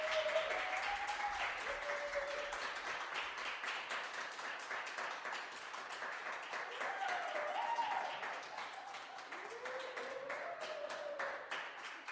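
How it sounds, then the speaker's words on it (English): A live audience at a stage show breaks into sustained applause to welcome a guest, dense clapping that continues throughout with faint cheering or tonal sounds rising over it. "Let's give them a big round of applause."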